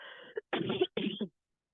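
A few coughs in quick succession, close by and fairly clear: one short burst, then two longer rough ones, with silence around them.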